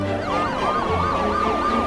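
An ambulance siren wails in repeated rising and falling sweeps, loud and close, with a steady engine rumble beneath it and no talk.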